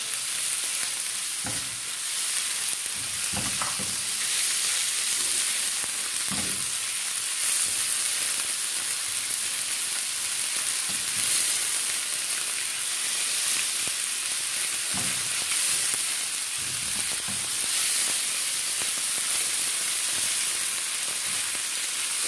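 Chicken frying with onion and ginger in a pan, a steady bright sizzle with occasional soft stirring scrapes, continuous and close with no talking.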